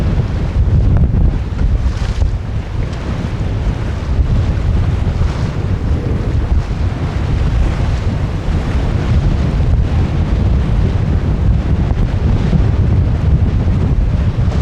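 Strong wind buffets the microphone aboard the small sailboat Mingming II while she beats to windward, a loud, unbroken rush of wind with waves and water washing along the hull beneath it, and nobody speaking.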